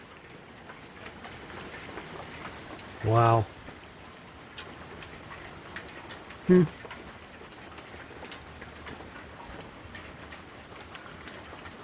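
Hail falling outdoors, a steady broadband patter across the whole clip with two brief spoken exclamations standing out above it.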